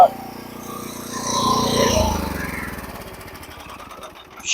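A Bobcat loader's engine runs steadily at a sawmill, a continuous mid-level mechanical drone with rattling texture that swells slightly and then eases back, heard alone without talk.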